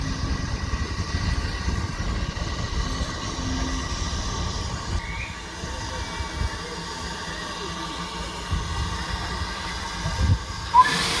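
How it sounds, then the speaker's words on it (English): A steam locomotive pulls out of a station on the Strathspey Railway, its chuffing, hissing and rolling rumble steady and fairly close throughout, with a brief sharper hiss or whistle near the end. "let's watch the steam engine go out then"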